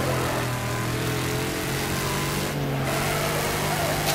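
Racing car engines roar steadily in a Wreckfest multiplayer race, a constant loud droning rumble with a brief shift in tone midway, present throughout with no talk.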